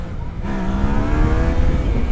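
Yamaha Niken three-wheeled motorcycle engine revs up hard as the front lifts in a short wheelie, a loud close roar climbing steadily in pitch over wind noise.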